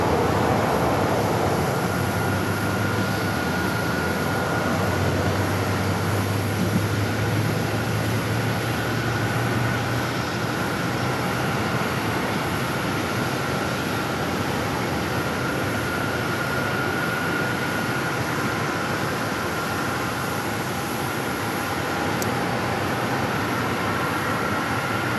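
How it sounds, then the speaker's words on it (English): A steady broadband roar and whine carries from a United Boeing 757 pushing back from the north side gates of Terminal 3 at Phoenix Sky Harbor, constant and unbroken throughout with no speech. "757 pushing back from the north side gates to Terminal 3"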